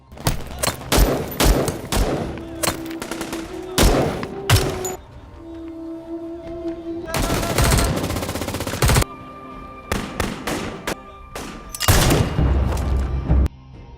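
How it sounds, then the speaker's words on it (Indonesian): Heavy gunfire in rapid bursts, machine-gun rattles and single loud shots, with brief lulls between volleys, close and intense. "Peperangan sengit pun terjadi"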